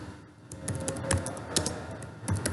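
Keys on a computer keyboard tap in a brisk, irregular run of typing while data is entered into SPSS, each keystroke close and crisp and no voices present.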